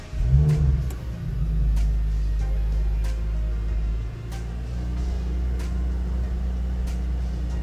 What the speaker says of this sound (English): I'll now just get inside this vehicle and turn it on for you.